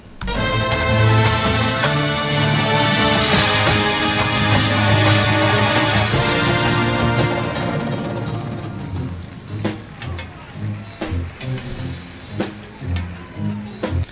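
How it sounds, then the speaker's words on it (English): A loud, full marching band plays with brass and a steady drum kit, then the winds fade and drum hits and cymbals carry on more sparsely. "Okay, I hear a drum set."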